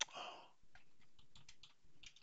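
Soft, quick keystrokes tap out an uneven run on a computer keyboard, typing a command into a preferences editor, quiet and close, after a brief rustle at the start.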